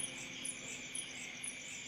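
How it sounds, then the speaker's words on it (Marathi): Crickets chirp steadily at night in a continuous high, pulsing trill, fairly faint, with no voices. "किड्यांचा आवाज येतो किरकिर करतोय ना"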